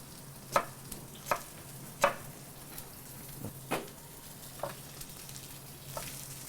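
Onions soften in a hot pan with a soft continuous sizzle, while knife chops on a board land in irregular taps close by over it.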